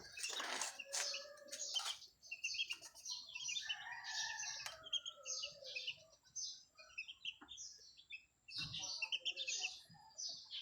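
Chicks peeping, with high peeping and clucking from several chicks at close range, irregular and overlapping, with no speech.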